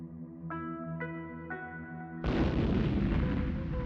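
A bomb explosion sound effect erupts as a sudden loud boom with a broad roaring blast that sustains, preceded by a few tonal chime-like hits over a low droning music bed.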